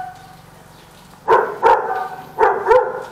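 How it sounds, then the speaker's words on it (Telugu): A dog barks outdoors near a temple: four loud, close barks in two quick pairs, separated by a short pause, over quiet background. "కుక్క అరుస్తుందేమో"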